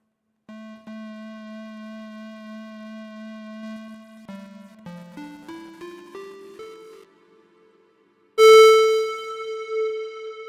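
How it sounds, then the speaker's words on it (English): Chiptune orchestra voices from the miniBit 8-bit synth app on iOS: a long steady buzzy tone, then a run of stepped rising notes, a brief pause, and a loud bright chord ringing out at the end. "this last one, the Chiptune orchestras. Just give them a bit of volume"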